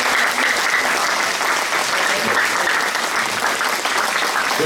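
Sustained, dense applause from an audience at a Vietnamese community ceremony in Australia marking 50 years of refugees, loud and steady throughout with a faint murmur of voices beneath.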